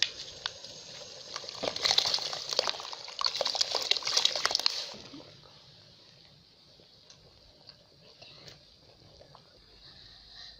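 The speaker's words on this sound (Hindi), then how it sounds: "पानी बॉईल हो गया। अब चावल शामिल करते हैं।" Soaked rice tipped into a pot of salted water at a rolling boil gives a fizzing, bubbling wash of liquid for about five seconds, then the boil settles to a faint, steady simmer.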